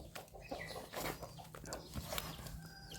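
Chickens cluck repeatedly on a farm where ducks are also kept, a busy, close flock chatter of overlapping clucks and squawks running throughout with no talk.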